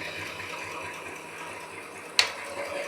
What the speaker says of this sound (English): It also has a low and high automatic feed, and it makes the machine run on its own